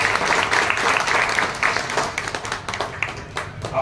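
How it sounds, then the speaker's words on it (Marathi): Audience applause at a Marathi stage event welcoming an actress, steady dense clapping throughout, loud and sustained with no speech over it. "आपण जोरदार पुन्हा एकदा टाळ्या वाजवूया."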